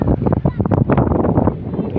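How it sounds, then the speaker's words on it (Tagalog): Gusty wind at a seafront buffets the microphone in uneven rumbling bursts, heard close and loud beneath a person talking throughout. "Mahangin, maganda yung hangin, malamig, hindi mainit."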